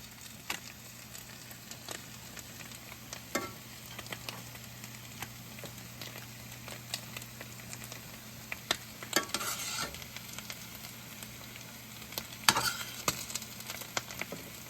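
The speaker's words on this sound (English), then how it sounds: "Got my potatoes frying over there if you hear that in the background." Steady sizzle of home-canned potatoes frying in a pan, with occasional utensil scrapes and clinks cutting in over the continuous crackling hiss.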